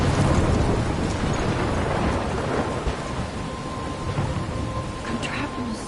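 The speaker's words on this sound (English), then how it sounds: "I'm trapped in a storm?" A thunderstorm rages in the video game Life is Strange: loud, continuous heavy rain roars up close while deep thunder rumbles underneath throughout.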